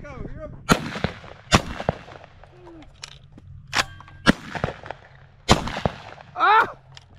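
Shotgun blasts ring out outdoors during a dove hunt, about six sharp loud shots spaced irregularly over several seconds. A voice speaks briefly between them.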